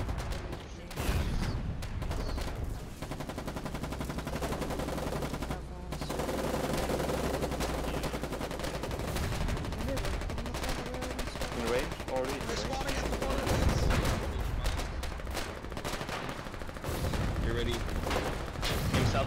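Rapid bursts of 40 mm gunfire from a wartime video game battle, dense and sustained over a low rumbling engine drone, with voices talking over the shooting.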